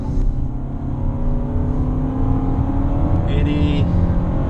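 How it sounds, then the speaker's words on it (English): A 2017 Renault Koleos accelerates hard from inside the cabin, a loud continuous engine and road roar that builds steadily, with a voice speaking over the noise. "let's give it a bit of acceleration."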